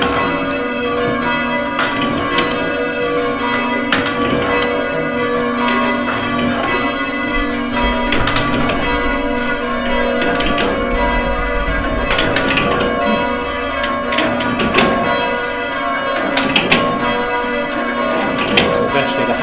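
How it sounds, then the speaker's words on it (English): A church bell rings repeatedly in St Peter's Church tower in Tiverton, loud and close, with strikes coming at a steady rhythm as the swing is shortened and long metallic tones overlapping. "Progressively taking in rope into our coils to limit the swing of the bell each time."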